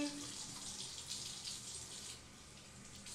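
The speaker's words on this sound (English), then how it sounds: "I'm going to rinse the face." Tap water runs steadily at a bathroom sink as a face is rinsed during a night-time skincare routine, a soft continuous splashing wash that holds at a moderate level throughout with no talk.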